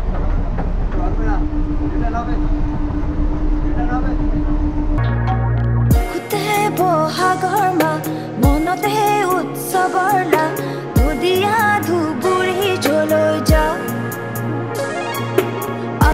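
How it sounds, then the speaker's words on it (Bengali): Sealdah to Katwa local train running, a steady rolling rumble with rhythmic clickety-clack of wheels, heard under loud music and processed effects. "আজকে আবার একটা নতুন ট্রেন জার্নি, তবে এটা কিন্তু একদম লোকাল ট্রেনের জার্নি।"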